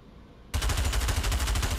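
A submachine gun fires a continuous rapid burst in Pavlov VR, close and loud, starting abruptly after a half-second of quiet background and holding at a fast, even rhythm of shots.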